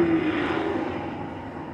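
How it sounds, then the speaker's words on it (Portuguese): A helicopter drones loudly overhead, a continuous engine roar with a steady tonal hum that gradually fades slightly. "Perdão pelo helicóptero"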